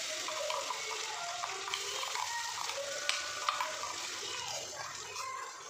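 A paste of garlic, onion, cumin and black cardamom sizzles as it is added to onions frying in a pan for stuffed eggplant, with steady soft frying and stirring and faint talk in the background.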